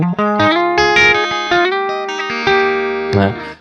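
An electric guitar plays a clean, dry tone through the Neural DSP Gojira amp plugin, with picked notes and chords ringing in a steady phrase, loud and close, with no talk.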